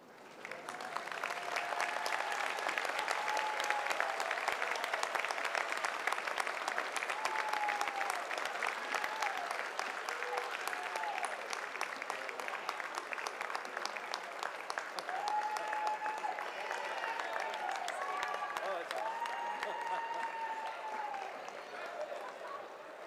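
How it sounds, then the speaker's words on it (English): Sustained applause from a large graduation convocation audience, dense steady clapping with scattered cheers and whoops, holding loud and even for over twenty seconds before easing slightly. "please join me in a round of applause"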